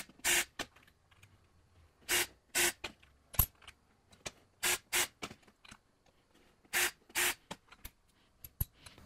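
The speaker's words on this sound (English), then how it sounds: "I'll use a countersink to deburr all the holes" A countersink deburrs drilled holes in metal spokes, giving short, sharp scraping bursts that often come in pairs, with quiet gaps between them.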